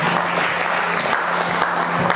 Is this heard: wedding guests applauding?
yes